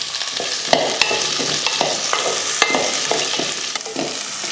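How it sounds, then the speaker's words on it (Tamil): Two hundred grams of okra sauté in a little oil, giving a loud close sizzle broken by repeated sharp scraping and clinking strokes of a stirring utensil at an irregular rhythm. "இரநூறு கிராம் வெண்டைக்காய் கொஞ்சமாக எண்ணெயை ஊற்றி வதக்கிக்கலாம்"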